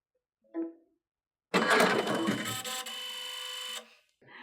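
A Destiny embroidery and sewing machine switches back on after being reconnected to a computer: a brief soft blip, then a few seconds of steady whirring and humming startup noise with faint clicks before it settles and stops.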